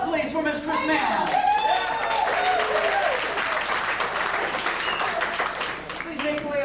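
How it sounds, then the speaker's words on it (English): A studio game-show audience applauds a contestant, a dense sustained clapping that swells and holds for several seconds while a host's voice talks over it. "Round of applause, please, for Miss Chris Mann."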